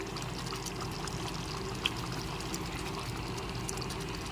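Blended malai cream made from milk skin pours into a pan of shahi paneer, a continuous, close, steady liquid pour with no pauses.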